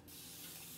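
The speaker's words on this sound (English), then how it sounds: "I'm using our little spray bottle off to the side. See, I'm just getting my paper towel wet, okay?" A small spray bottle squirts water onto a paper towel in one short, close, soft hissing burst with no other sound around it.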